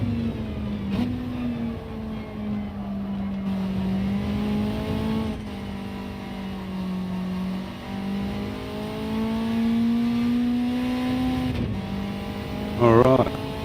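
A race car engine in a racing video game, pushed into over-revving, holds a steady, loud droning whine whose pitch rises and falls with throttle and gear changes, running continuously throughout.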